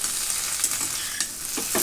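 Sliced okra and onion sizzle in hot oil in a pan while a spoon stirs them, giving a steady, close frying hiss broken by a few scraping strokes, with no voices.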